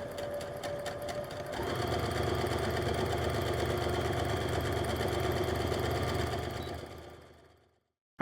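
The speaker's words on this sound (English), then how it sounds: "A couple stitches in, back stitch, sew down your marked line." A sewing machine stitching darts in an A-line skirt runs steadily at a near, even mechanical whir for several seconds, then slows and stops, with no talk over it.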